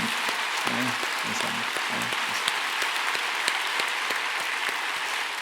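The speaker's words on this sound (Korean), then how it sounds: "다시 한번 박수하겠습니다" Congregation applause fills a church, a dense and steady wash of clapping from the audience, with a voice briefly speaking over it.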